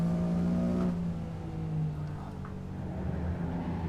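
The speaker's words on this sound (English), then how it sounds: "Whoa, we missed the gear there." A Honda NSX in Assetto Corsa revving after a missed gear shift: a loud, continuous engine drone with a strong harmonic whine that rises briefly, then settles as the revs drop.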